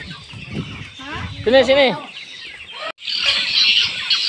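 Farm chickens being fed by visitors cluck and squawk close by, with a loud drawn-out call in the middle, while people talk over the flock and feed scatters.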